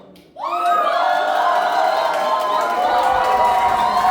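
Men in a dance party audience cheering on cue, a sudden loud sustained roar of shouting voices that swells and holds steady for several seconds.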